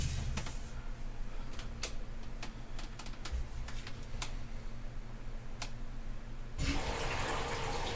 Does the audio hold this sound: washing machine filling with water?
yes